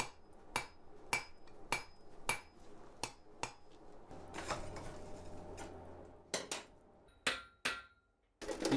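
A metal dragon snout is hammered over the edge of an anvil, with a steady series of sharp, ringing metallic strikes spaced under a second apart and a busier stretch of rapid blows partway through.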